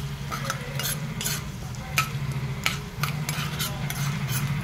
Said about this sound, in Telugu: బాగా వేగాలండి. ఇవి కొంచెం చిట్పట్లాడాలి